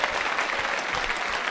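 A student audience at a college quiz show bursts into brief, continuous clapping, a dense and fairly loud patter with no voices over it.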